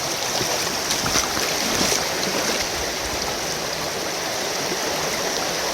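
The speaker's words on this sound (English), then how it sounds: "Bucket 6 and 7 ready to go through the sluice." Water and gravel rushing through a gold sluice at a gold diggings, a steady, dense wash of flowing water with gritty hiss, close and constant throughout with no talk.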